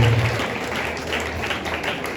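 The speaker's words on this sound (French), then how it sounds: "On nous applaudit" A crowd at an evangelical church gathering claps steadily, a dense wash of applause throughout with no clear voices on top.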